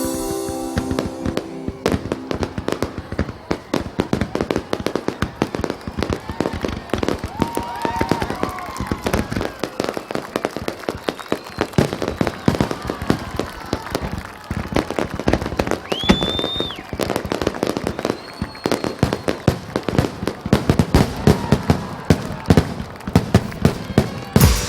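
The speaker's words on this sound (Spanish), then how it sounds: "los fabulosos espectáculos de fuegos artificiales" A fireworks display for the King's festival in Bangkok gives loud, dense, rapid bangs and crackling bursts, with a few rising whistles, going on without pause and without talk.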